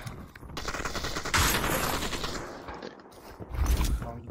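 Shooter game gunfire crackles in rapid bursts of shots at moderate loudness, with a denser volley around the middle and another heavy hit near the end, and no voices over it.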